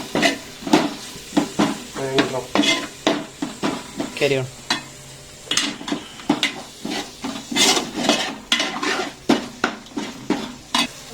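Onions and tomatoes frying in a pan, a steady sizzle broken by repeated loud scraping and stirring strokes of a spoon against the pan, close up.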